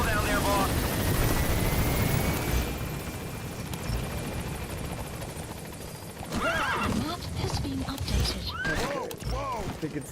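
A horse in the video game Metal Gear Solid V: The Phantom Pain whinnies loudly and then clip-clops along, with a helicopter-like drone underneath. Someone speaks over the hoofbeats in the second half.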